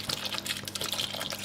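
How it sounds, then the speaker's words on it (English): Half a bottle of water pours into a cooking pot of mice being prepared as rodent food, a faint, continuous splashing trickle with bright, fluttering detail throughout. "So we add half a bottle of water,"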